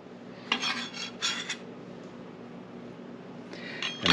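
Diced celery tumbles into a bowl in two short clattering bursts near the start, followed by quieter kitchen handling and another clink at the end, close and fairly soft with no talk.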